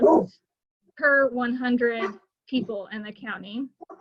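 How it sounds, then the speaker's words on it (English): Someone talks steadily while a dog gives a short bark or yelp at the very start, then stays quiet beneath the speech. "Sorry for my dogs."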